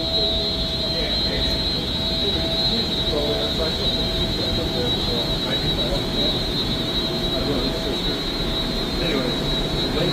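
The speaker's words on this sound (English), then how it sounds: "That's just a blower" An HVAC blower fan inside the US Steel Tower runs with a constant loud whoosh and a high steady whine, and people talk over the unbroken mechanical noise.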